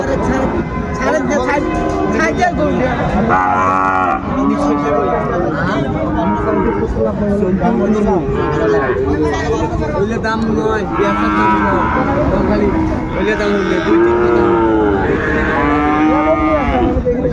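Sahiwal cattle bellow and moo repeatedly at a busy cattle market in Dinajpur, loud calls rising over a constant crowd din of chatter and voices.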